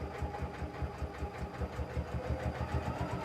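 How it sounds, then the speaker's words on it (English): Sewing machine stitching quilt binding at slow speed with a binder attachment, a steady rhythmic mechanical thump-and-whir of the needle, close and moderately quiet, alone. "grab onto those threads and then start sewing slowly"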